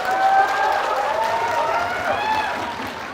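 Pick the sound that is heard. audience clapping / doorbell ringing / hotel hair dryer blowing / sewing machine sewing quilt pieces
audience clapping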